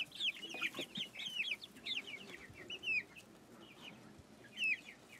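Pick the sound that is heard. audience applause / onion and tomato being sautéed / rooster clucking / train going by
rooster clucking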